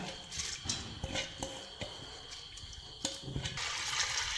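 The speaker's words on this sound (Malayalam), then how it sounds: "വേവാനാവശ്യത്തിൻ്റെ വെള്ളം കൂടി ഒഴിച്ചെടുക്കുന്നുണ്ട്" Water splashes and trickles into a metal pressure cooker holding lentils, with a few clinks of the vessel before a steadier pouring rush at the end.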